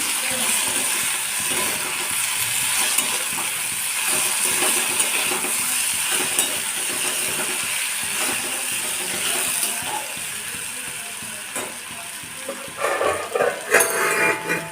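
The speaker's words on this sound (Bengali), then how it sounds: "এই যে আলুটা ভাজতে লাগলাম অর্ধেকটা ভাজা হয়ে গেছে" Potatoes frying in a pan give a steady, close hiss that runs throughout, with a few louder bursts of crackle near the end and no talking.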